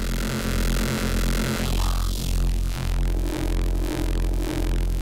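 A dark, evolving Disintegration synth patch from a Bitwig Studio preset pack, with a steady low pulsing bass under sustained tones that break into gritty, crumbling textures partway through, playing alone and loud.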